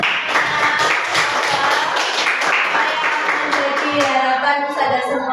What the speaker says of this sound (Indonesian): Tepuk tangan Ustazah semua.